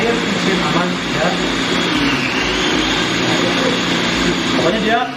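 Electric blender grinding coconut, a loud steady motor whine with a dense rushing roar held throughout, a voice faintly underneath.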